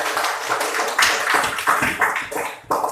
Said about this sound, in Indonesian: Tepuk tangan untuk Stevi.